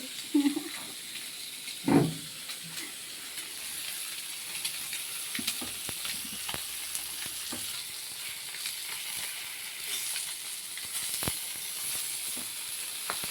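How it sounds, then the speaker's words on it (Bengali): Fish fries in a small amount of oil in a black wok, giving a soft, continuous sizzle and hiss, with a couple of sharp utensil clanks near the start and scattered light pops. "দেখুন কতটা অল্প তেলেও মাছ কি সুন্দর ভাজা হয়ে যায়"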